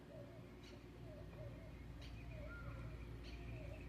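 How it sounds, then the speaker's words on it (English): A pigeon outdoors coos softly several times in short, evenly spaced calls over a steady low hum of background noise. "Pigeon."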